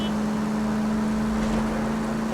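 A car drives in the 1940s crime game L.A. Noire, giving a steady, fairly loud engine drone with a constant hum heard alone, without voices.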